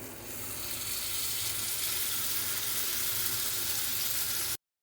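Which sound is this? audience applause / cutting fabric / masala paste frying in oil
masala paste frying in oil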